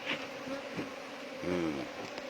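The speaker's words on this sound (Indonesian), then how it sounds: "Bagi rekan-rekan yang ada lebah di ladangnya atau di rumahnya jangan dibunuh ya." Bees buzz continuously around a hive being removed, a steady close drone with a few louder passes as individual insects fly near, under faint background noise.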